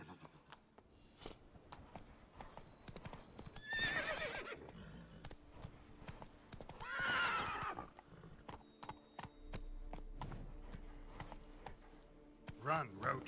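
Roach the horse from The Witcher 3 gallops with steady, rapid clip-clop hoofbeats throughout, broken by a whinny, while someone speaks briefly over the running rhythm.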